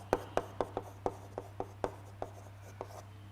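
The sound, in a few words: writing on a board during lecture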